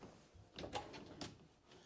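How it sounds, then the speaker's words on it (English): A small pull-out drawer in a 2023 Hemisphere 35RE camper trailer slides open with a couple of quick rattling scrapes and a soft knock, close by and without speech. "Then you got another little pull-out drawer."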